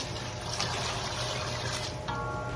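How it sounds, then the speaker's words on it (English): Water pours steadily into a cooking pot on the stove, a continuous close trickling and splashing with a slight shift in tone near the end, no voices. "I'm going to add some more water here"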